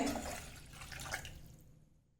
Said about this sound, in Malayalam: വലിയ ഗ്ലാസ്സിന് രണ്ട് ഗ്ലാസ് വെള്ളമാണ് ഞാൻ ഒഴിച്ചു കൊടുക്കുന്നത്